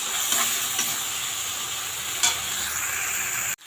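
White mustard seeds and green chilies fry in a pan with a dense, continuous sizzle close by, with a few faint stirring ticks before the sound stops abruptly.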